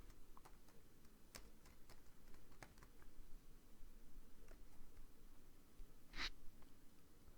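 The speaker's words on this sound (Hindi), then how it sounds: "सारे हेडिंग्स हम टाइप कर देंगे।" Faint, scattered clicks of a computer keyboard being typed on, irregular taps spread across the stretch with one sharper click near the end, all quiet and without talk.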